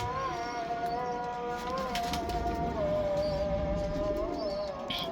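Pigeons coo softly and repeatedly at close range, their low rolling calls layered over a faint background murmur, with no talking.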